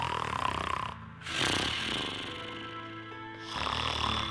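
A voice imitates loud, rasping snoring, with three drawn-out snores separated by short pauses.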